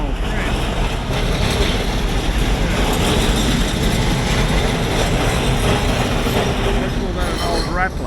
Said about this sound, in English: Oh, there's an old tram.